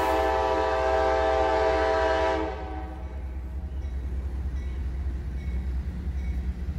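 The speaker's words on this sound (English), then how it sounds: "Looks like it might be an empty coal train or coke or something." An empty CSX coal freight train rolls past close by on damaged rails, a loud rumbling roar that drops after a couple of seconds into steady clattering and rumble.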